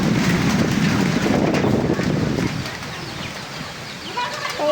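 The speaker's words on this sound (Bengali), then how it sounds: "মানে বৃষ্টি কম, ঝড়টাই বেশি," A strong storm wind with little rain roars loudly past bamboo and tin roofing, rushing heavily at first and then easing to a lower, gustier rumble.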